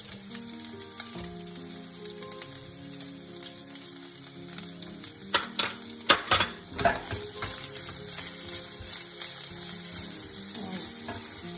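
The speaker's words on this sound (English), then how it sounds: "I'm going to add in my onions." Chopped onions fry in a pan with fresh shredded turmeric and ginger for oats upma, giving a steady close sizzle with scraping stirs and a few sharp utensil clatters midway. No voices are heard.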